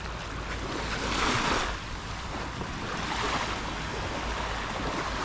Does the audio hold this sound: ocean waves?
yes